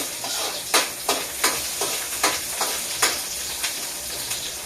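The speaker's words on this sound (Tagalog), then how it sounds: "Gigisa na ng bawang, sibuyas, luya." Garlic, onion and ginger sautéing in a pan, a steady close sizzle broken by about eight sharp stirring scrapes at roughly even intervals, with no talking.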